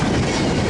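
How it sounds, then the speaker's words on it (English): A freight train passing at Daggett, a loud, steady close rumble of rolling wagons and wheels on rail, filling the whole brief moment with no voices. "Or you know what, this could be a Q train"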